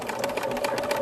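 A sewing machine top-stitching vinyl with a tiny presser foot, its fast, even needle chatter running close and steady for about a second with no voices.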